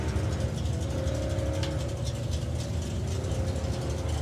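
Drag racing cars on a strip at a nostalgia drag meet, engine rumble droning steadily from a distance, a low continuous mechanical roar with a faint rattling texture, heard alone.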